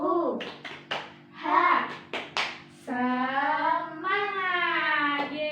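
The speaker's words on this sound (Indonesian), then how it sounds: "kita tepuk semangat terlebih dahulu ya" Children in an Indonesian classroom do a rhythmic clapping chant, short bursts of hand claps alternating with chanted voices, then sustained group shouting, close and lively.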